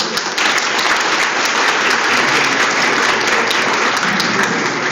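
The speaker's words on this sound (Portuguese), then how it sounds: "eu queria dar uma salva de palmas para o conjunto" Steady, dense applause from a workshop audience at a territorial community workshop, loud and continuous for the full stretch with no break.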